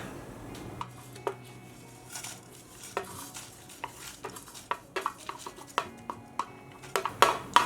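Spoon scrapes and clinks repeatedly in a pan while pepper, coconut pieces, dry chillies, garlic and curry leaves are dry-roasted, with irregular close knocks growing busier toward the end and no talk.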